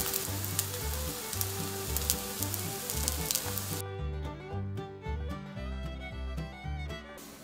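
Loud, steady sizzling of broccoli and egg frying in a hot pan, crackling continuously up close, with no voices.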